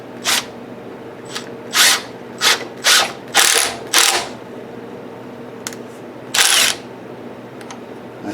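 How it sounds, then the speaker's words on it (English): A barb being pushed into a prototype part gives a series of sharp mechanical ratcheting clicks in irregular bursts over a steady background hum, close and fairly loud, with no talking. "let's see if I can push the barb in there without any kind of major problems of any kind"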